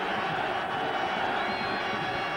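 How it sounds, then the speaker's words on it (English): Stadium crowd at a CFL Eastern Final football game between Winnipeg and Montreal, a steady roaring wash of cheering voices that stays loud and continuous throughout. "Crowd now rising."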